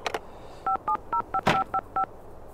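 A mobile phone in The Sims 2 dials out, seven short, evenly spaced keypad tones beeping in quick succession, with a brief soft click before them and a louder burst partway through.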